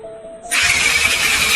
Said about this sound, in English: Let's try cranking it to see if it turns.